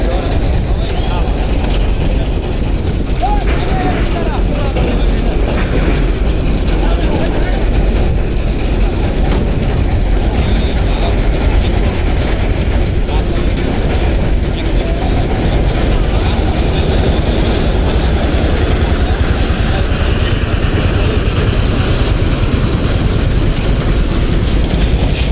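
A trawler boat's engine rumbles loud and unbroken at the Barishal launch ghat, a heavy low drone with steady mechanical chatter, mixed with busy riverside voices throughout.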